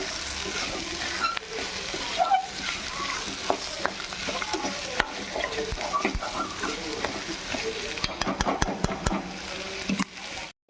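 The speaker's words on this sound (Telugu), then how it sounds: "ఒకసారి తిప్పుకుందాం" Tomato pieces and boiled potato chunks stirred in a hot pan for potato egg kurma, steady frying sizzle with scraping spoon strokes and sharper clatters toward the end, close by.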